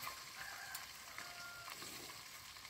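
Mustard seeds hit hot oil while devilled shrimp is being cooked, giving a steady, faint, hissing sizzle with light crackles and no speech.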